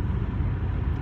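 Low, steady road rumble from inside a car being driven, a continuous close drone with no distinct events during the brief moment.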